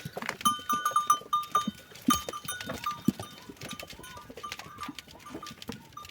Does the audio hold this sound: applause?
no